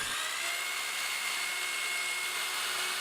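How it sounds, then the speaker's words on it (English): A power drill bores holes through a metal C-channel during a DIY camera slider build, giving a steady, continuous high whine at constant level for the whole stretch. "we're going to drill 2 holes in each side of the C-channel so that we can bolt it to our"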